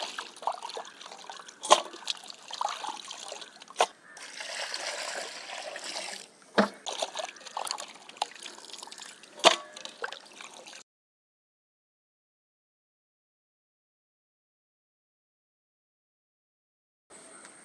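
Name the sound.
washing chicken with water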